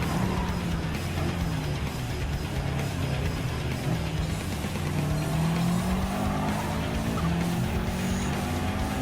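A Gr.4 race car in Gran Turismo 7 drives hard around the Sardegna Road Track, its engine droning and shifting pitch continuously, with tires squealing through corners at a constant, loud level.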